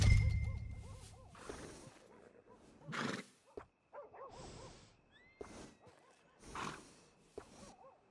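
A workhorse in Red Dead Redemption 2 whinnies in several separate bursts, each a wavering high neigh, with snorts and soft hoof sounds between them. The horse is close and fairly quiet overall.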